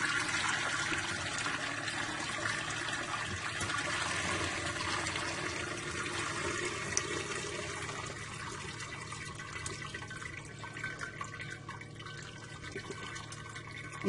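Beef stock for shami kabab poured through a strainer, a steady trickling and splashing of liquid that runs continuously at moderate level, close by, with no talking.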